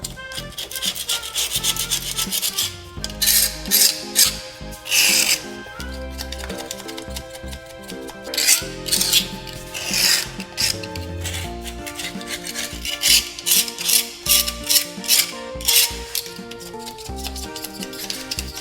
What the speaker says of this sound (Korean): 바닥은 충분하게 이렇게 긁어주시고